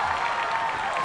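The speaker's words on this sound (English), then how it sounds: "Matt, this crowd is going to erupt if he gets through this" A stadium crowd at an American Ninja Warrior final roars with steady applause and cheering, a dense wash of clapping and voices throughout.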